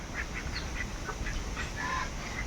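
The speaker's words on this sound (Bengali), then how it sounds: "দেখো কেমনি কেমনি প্যাক প্যাক করতে করতে আইতেছে" Ducks quack in short, repeated bursts, fairly faint and somewhat distant over a low background hum.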